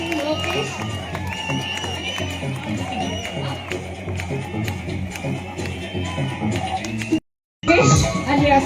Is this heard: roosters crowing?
no